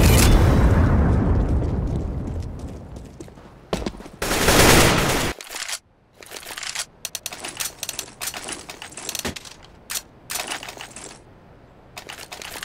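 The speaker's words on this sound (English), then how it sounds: "Get ready! It is going to explode!" A bomb detonates in Counter-Strike: Global Offensive with a loud, broad blast that rumbles and fades over several seconds, followed by a second short burst and then scattered sharp clicks and gameplay clatter.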